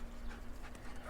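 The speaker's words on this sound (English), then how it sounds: "There are dogs everywhere." A dog pants softly for a brief moment outdoors in the Swiss village of Lungern, quick faint breaths over light background noise.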